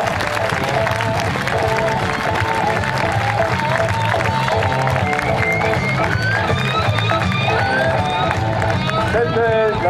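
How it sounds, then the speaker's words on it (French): A crowd applauds steadily through a parade at a horse festival in Ugine, with continuous clapping and cheering mixed with music and voices throughout. "applaudissements"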